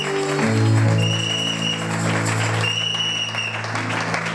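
Church congregation applauding and cheering during a sermon, a loud sustained wash of clapping with held sung or shouted voices and sustained musical tones running underneath.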